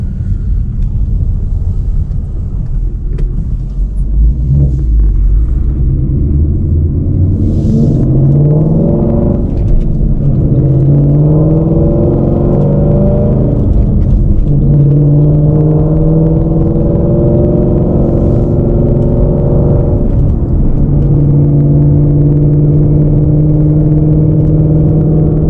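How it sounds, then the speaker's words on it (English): Engine of a 2017 Ford Mustang GT while driving, a loud, steady low rumble throughout with rising harmonic sweeps as it revs and shifts through gears. "This car absolutely screams."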